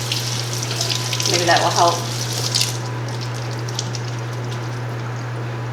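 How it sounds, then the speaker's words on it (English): Tap water runs into a sink as canned beets are rinsed, a soft hiss over a steady low hum, with a brief spoken remark in the middle before the flow quiets. "So I'm gonna kind of rinse those a little bit."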